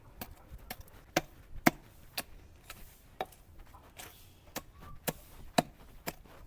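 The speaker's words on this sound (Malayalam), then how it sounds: "അതുകൊണ്ട് നമുക്ക് കുഞ്ഞു തൂമ്പ ഉപയോഗിക്കാം." A small garden hoe strikes into soil in a series of about a dozen sharp, fairly quiet chops at a steady, slightly uneven rhythm.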